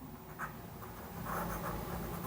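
Chalk or marker writing on a classroom board during a Hindi-medium class 10 maths lesson on linear equations, a steady close scratchy scraping with short stroke bursts, no talk.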